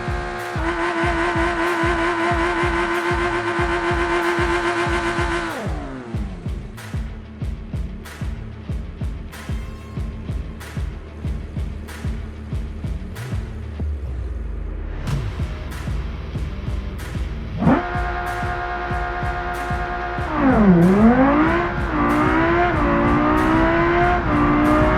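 A Civetta Scintilla GTX revs and accelerates hard on a drag strip, its engine climbing through gears with steady, loud roaring and rising pitch changes, a close and continuous blast with no talk.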